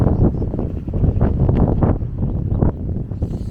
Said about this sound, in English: don't know if you can hear me above that wind now. The wind's picking up.